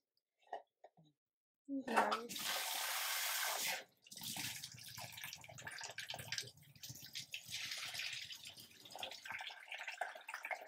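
Water is poured off a pot of boiled eggs, a loud gushing splash that stops abruptly, followed by lighter dripping and clattering, with someone speaking briefly before the pour.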